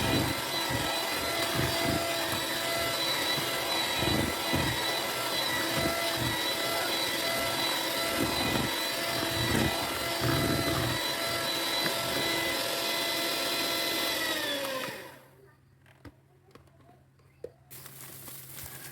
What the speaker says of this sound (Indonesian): Mixer kembali dengan kecepatan tinggi hingga semua bahannya tercampur rata.